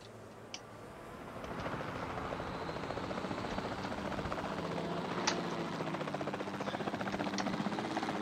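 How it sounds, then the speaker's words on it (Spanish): Helicopter rotors in the dinosaur park game Jurassic World Evolution 2 chop steadily, a dense, continuous thrumming that swells in over the first seconds and holds loud and close throughout. "Si es que hay demasiados helicópteros."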